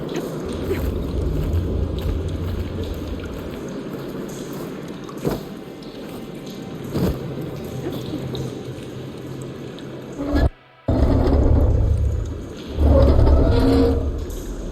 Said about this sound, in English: Aloy, I can hear water in the room again.